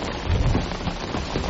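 Steady rain falls in Andalusia, a dense, even hiss of drops with no voices, close and continuous for a moment.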